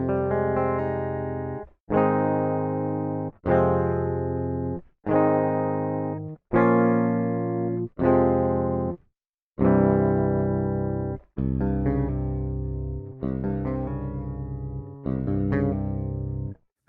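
Clean-toned Shreddage 2 Absolute 7-string electric guitar, sampled: a series of sustained chords and notes, each ringing about a second or two with short gaps between, loud and alone with no voices.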